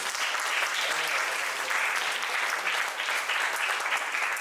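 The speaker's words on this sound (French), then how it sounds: "Je pense qu'on peut encore les applaudir encore une fois." A room full of people applauds student data analyst project presentations at a coding bootcamp demo day in Marseille, a dense, steady wash of clapping that holds level throughout without any talking.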